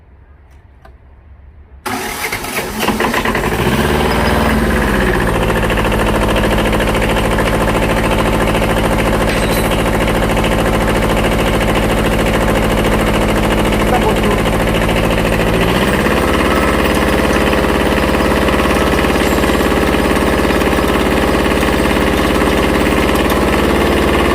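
A 16 hp tractor engine cranks briefly and catches, then runs at a loud, steady idle close by, its pitch settling and shifting slightly partway through before continuing evenly to the end.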